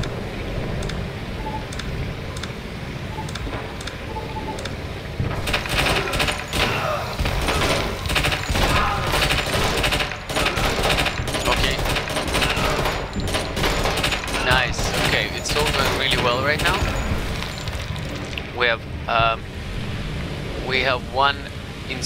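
Squad gunfire in Door Kickers 2: rapid bursts of shots crackle repeatedly from the middle onward, dense and sharp over a constant background, with a voice talking through parts of it.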